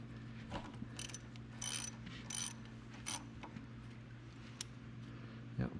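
A 7/8 socket wrench ratchets against a skid steer grease fitting, giving several short clicking bursts spread over a steady low mechanical hum, close and moderately loud.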